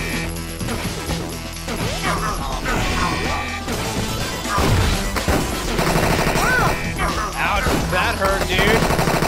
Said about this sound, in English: You're a chick with a shotgun machine gun. Stop shooting me!